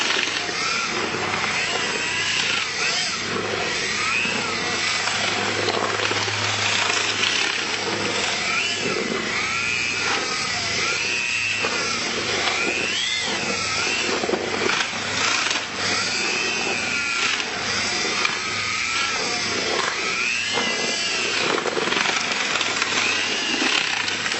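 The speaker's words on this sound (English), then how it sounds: "Mix the resin in thoroughly with a mud mixing drill." A mud mixing drill whirs continuously while grinding and churning through a gritty mix of resin and pebbles, a loud, steady mechanical drone with rattling texture throughout.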